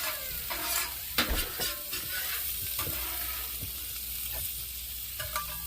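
Onions and peppers sizzle on an outdoor grill with a steady frying hiss, broken by intermittent scraping and stirring clicks from a utensil.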